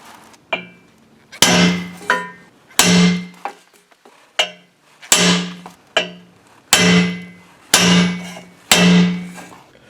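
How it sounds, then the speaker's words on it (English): A header pipe is struck repeatedly with a round brass piece to dimple it for spark plug clearance, about ten loud, ringing metallic whacks at an irregular pace, each decaying quickly into silence. "I'm going to use this round piece of brass, and I'm going to start whacking it here in between these white marks"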